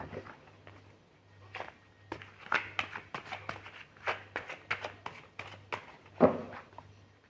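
Tarot cards being shuffled by hand, a soft, fairly quiet run of irregular riffling and slapping taps, with no talk.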